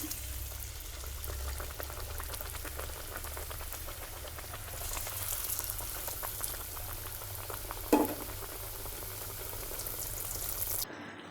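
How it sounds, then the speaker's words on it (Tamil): Puff pastries stuffed with masala fry in hot oil, a steady soft bubbling sizzle that holds throughout with one brief clatter near the end. "எண்ணெய் சூடாயிருச்சு எண்ணெயில் போட்டுக்கலாம்"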